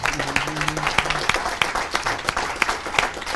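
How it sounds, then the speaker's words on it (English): Audience at a live event applauds, dense overlapping hand claps with a few sharper close claps, over a faint murmur and a brief low tone at the start. "Give her a round of applause."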